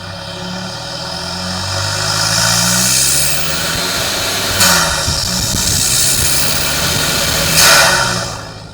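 Diesel rumble from a Toyota Hilux N80 with a 1GD engine and a stainless snorkel, a steady loud drone with a hissing, whooshing intake note that swells in bursts as the engine revs, with no talking.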